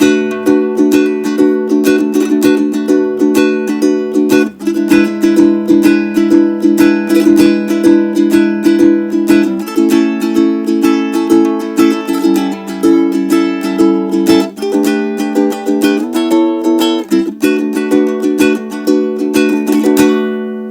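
A ukulele strummed openly with no left-hand muting, chords ringing and sustaining into one another in a steady, continuous rhythm, close and fairly loud with no talking.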